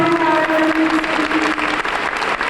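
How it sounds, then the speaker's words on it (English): Assembly audience applauding for the president and CEO of the Hip Hop Sisters Foundation, continuous crowd clapping close and loud, with sustained voices or cheering tones running beneath it. "Yes, give a round of applause"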